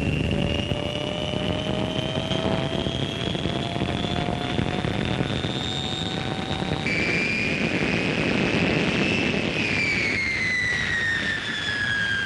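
An aircraft engine runs on the ground, a loud, constant roar with a high whining tone that steps up in pitch partway through, then slowly drifts downward.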